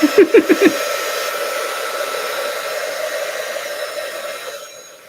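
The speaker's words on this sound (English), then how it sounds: "I am going to use the heat gun so that I can dry." A heat gun blows steadily over mixed media artwork to dry it, a loud continuous whooshing hum after a few quick button clicks at the start, fading slightly toward the end, with no speech.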